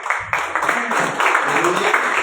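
A church congregation applauds during a Bible study service, with dense, continuous clapping mixed with voices and crowd noise throughout.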